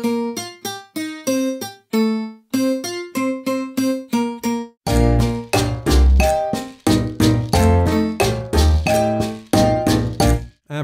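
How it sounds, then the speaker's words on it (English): A bright, jangly tres guitar with a doubled, twelve-string-like shimmer plays a rhythmic pattern, first alone, then joined by a fuller band accompaniment. "It's this little guitar, which kind of sounds like a 12 string, and it sounds like this."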